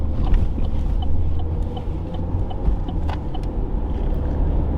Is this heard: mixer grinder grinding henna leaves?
no